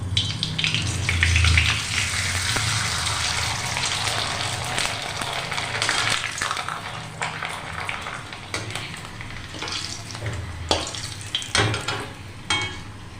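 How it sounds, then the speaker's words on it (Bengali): Sago papads frying one by one in hot oil, a steady broadband sizzle and bubbling that runs throughout, with occasional sharper crackles and spatters near the end. "তেল গরম হয়ে গেছে, এবার এক এক করে পাঁপড় দিয়ে নেব।"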